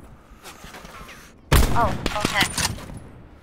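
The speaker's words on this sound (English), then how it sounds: "Yeah, keep shooting at him." Sniper rifle fire in Call of Duty Blackout, one sharp loud shot halfway through followed by ringing and clatter, after a quiet stretch with brief talk.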